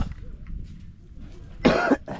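A person with a cold coughs once in a short, loud burst late in the moment, set against low background noise.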